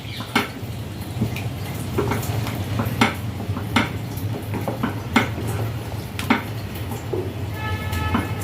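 A spoon stirs mutton curry in a metal pot just after yogurt goes in, giving a steady run of scraping clinks and taps against the pot over a low continuous background rumble, with no talking.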